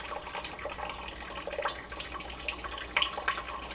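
Cooked plum liquid for homemade pectin, made with a quart of water per pound of plums, trickles and splashes faintly as it is strained, in soft uneven spurts with a few brighter drips near the end.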